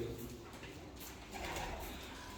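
Soft cooing from a breeding costume pigeon in a loft, low and quiet against background noise, with a faint murmur of people nearby.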